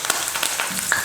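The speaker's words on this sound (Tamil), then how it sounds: "கடைசியாக கொஞ்சம் கருவேப்பிலையை சேர்த்து பொரிச்சிடுறேன்" Curry leaves crackle and sizzle in hot oil while making bakery-style boondi, a brief close burst of spitting pops over a steady frying hiss.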